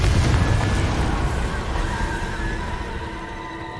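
A Confringo blasting spell explosion in Hogwarts Legacy, a loud booming blast at the start that rumbles and slowly fades over several seconds.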